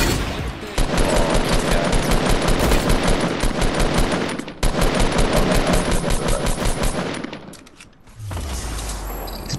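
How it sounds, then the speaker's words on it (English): Sustained automatic gunfire in a battle royale shooter, loud and close, in long rapid bursts with a short break midway, fading out before a low rumble at the end. "He shot the gun, he didn't want us to kill him."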